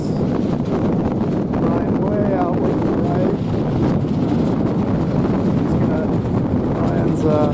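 Steady wind buffets the microphone at a radio-controlled IOM sailboat race in Corpus Christi, Texas, a constant low roar with a voice talking over it throughout.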